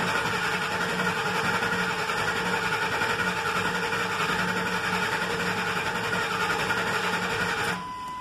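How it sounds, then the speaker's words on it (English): A Ford F250 engine cranks on the starter without firing, giving a steady, dense whirring drone that runs for about eight seconds before cutting off abruptly. "get some oil through the motor. I don't want to get the starter too hot."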